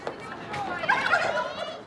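Farm turkeys gobbling in a steady, overlapping chorus of warbling calls, moderately close and continuous.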